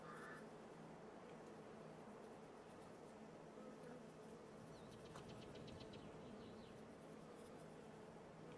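Bees in Farming Simulator 22 buzz steadily and quietly as a continuous insect drone, with no talk over it.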